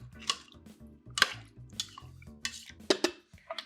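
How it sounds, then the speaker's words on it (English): A spoon stirs Zuppa Toscana soup in a pot, giving soft sloshing swishes and light clinks against the sides in an irregular rhythm, up close and quiet. "Give it a stir."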